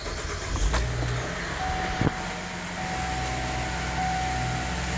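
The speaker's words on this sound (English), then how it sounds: "reach in, start the car." A 2010 Chevrolet Traverse engine cranks and catches with a short burst, then settles into a low steady hum under faint background noise; no one speaks.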